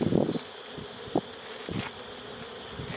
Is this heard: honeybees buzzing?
yes